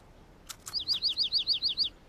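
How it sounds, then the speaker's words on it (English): A small cartoon bird chirps in a quick run of about nine bright, evenly spaced high tweets, following two short sharper calls, close and clear over quiet background. "Caillou was startled and excited to hear the bird chirp."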